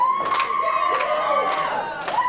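A wrestling arena crowd turning against a wrestler, with repeated waves of loud jeering and shouting rising and falling over a sustained tone, heard at a distance in a big hall.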